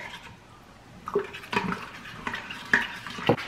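Spoon stirring heaping teaspoon of beef bouillon base into liquid in an Instant Pot, a few scattered faint clinks and scrapes against the metal insert over quiet background, no talk.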